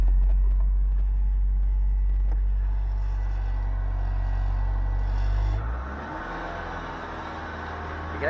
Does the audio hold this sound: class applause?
no